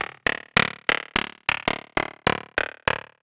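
Ableton Roar distortion on the direct signal produces eleven evenly spaced, harsh, buzzy hits, each striking loud and decaying quickly in a steady repeating rhythm with no voice.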